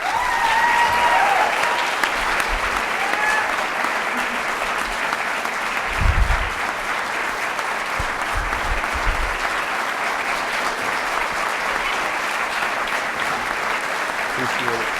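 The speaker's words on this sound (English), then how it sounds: "please, one more round of applause for Thank you Staff so Sergeant" A large audience applauds a speaker at an arena speaking event, sustained dense clapping with cheering mixed in that holds steady for its whole length, with a brief low thump near the middle.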